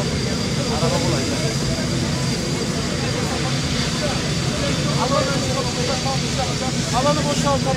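A fixed-wing airplane preparing to take off, a loud steady engine roar filling the scene while people talk nearby.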